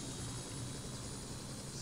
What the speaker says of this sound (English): you are going to hear motor noise that represents the starting success of the engine